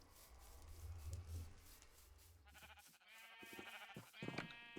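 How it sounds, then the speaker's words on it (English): Sheep bleating in the Minecraft modpack FTB Interactions, a few short nasal calls toward the end over a low ambient game hum, fairly near and moderate in level. "For the sheep, right."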